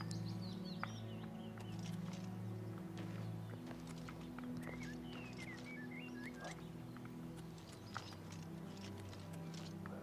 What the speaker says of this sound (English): This is the stables